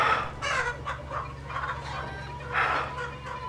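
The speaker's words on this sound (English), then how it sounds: "They're feeding their chickens." Chickens cluck and make gobbling fowl calls from a scene in the 2019 film Midsommar, several short bursts at moderate volume over a low steady hum, with no talk.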